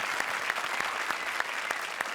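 A live comedy show audience applauds the finalist pair with steady, dense clapping throughout, moderately near and continuous, with a faint voice underneath.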